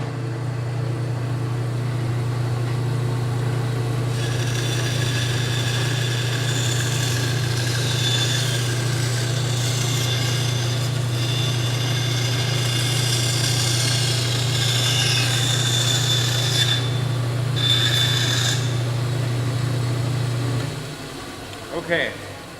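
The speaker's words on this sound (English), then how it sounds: "now I'm gonna start the saw back up and finish this cut" A band saw running steadily to finish a cut, with a constant motor hum and a rising whine as the blade bites into the material, then spinning down at the end.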